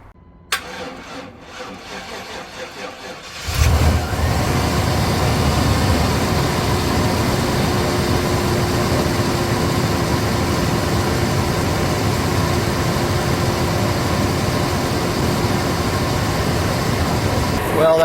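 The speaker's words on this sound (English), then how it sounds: "We're gonna start this engine and see how it runs." An engine cranks over with a brief grinding start after a serpentine belt and tensioner pulley replacement, catches, then settles into a loud, steady idle hum with a constant drone that persists to the end.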